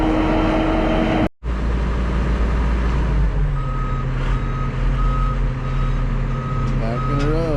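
A dump truck's reversing alarm beeps repeatedly at a steady rhythm over a loud, rumbling diesel engine nearby on a job site.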